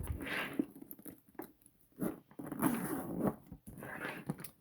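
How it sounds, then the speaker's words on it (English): A zipper pulled along a handbag holding a medicine pouch and full-size wallet, several quiet raspy zipping strokes with short pauses between, close and soft with no talking. "Zips up just fine"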